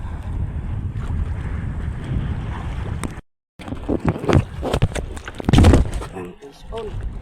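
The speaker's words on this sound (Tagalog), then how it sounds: "Malakas ang hangin." Gusty wind roaring against the microphone on open water while fishing, with people talking over it and a brief dropout in the middle.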